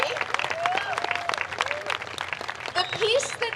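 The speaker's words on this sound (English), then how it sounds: "So please give them a big round of applause" Audience applause at the Tucson Meet Yourself festival, greeting a taiko drumming group: a dense wash of clapping and cheering voices from a nearby crowd, steady for a few seconds.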